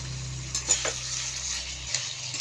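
A spoon stirs a vegetable curry tempered with panch phoron, bay leaf and dried chilli in a pan, making a soft sizzle with a few brief scrapes and clinks against the metal over a couple of seconds.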